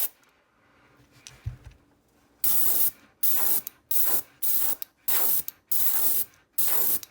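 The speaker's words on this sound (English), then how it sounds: "just spray the back" Airbrush spraying paint onto the back of a shad-colored clear-water crankbait lure, a quiet lead-in followed by six hissing bursts of about half a second each, separated by short pauses.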